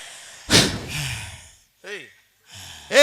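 Heavy, out-of-breath gasps and sharp inhales come in a few short bursts, loud and close, with a voice breaking in between.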